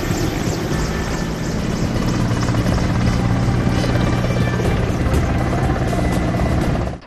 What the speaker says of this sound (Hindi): फिर वायुसेना के हेलीकॉप्टर ने फूलों की बारिश की